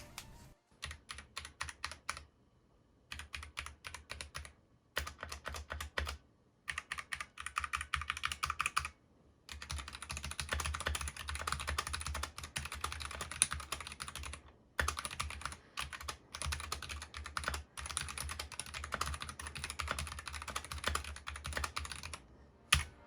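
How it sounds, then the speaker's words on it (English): Clacky typing on a Drop ENTR mechanical keyboard with aluminium casing and Halo True switches, steady runs of keystrokes with brief pauses, recorded up close in an otherwise quiet room. "let's take a moment to do the all-important sound test with the Halo True switches"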